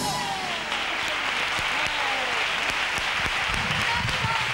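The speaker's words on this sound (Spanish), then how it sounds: "Hay más aplausos." Sustained audience applause at a Colombian carnival performance, dense and steady throughout, with scattered voices and whistles in the crowd.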